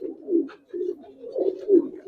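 Giribaz pigeon cooing nearby in a series of soft, low throaty coos with short pauses between them, clear and unaccompanied.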